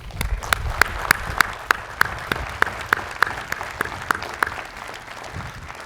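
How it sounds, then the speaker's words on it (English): Sparse applause from a small, socially distanced audience at a university graduate commencement ceremony, with distinct individual claps ringing out in a steady patter at moderate volume. "Let's give them a round of applause."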